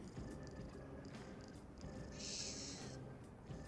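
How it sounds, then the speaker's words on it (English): A cat in the Persona 5 Royal video game meows through a game controller's small speaker, giving faint, thin cries over a low purring rumble, with a brighter meow near the middle. "And there he goes. He meowed."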